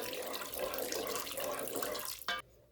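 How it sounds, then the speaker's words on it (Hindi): Water pours steadily into a cooking pan of spiced masala for a couple of seconds, then stops with a short splash. "इसमें थोड़ा सा पानी डाल के"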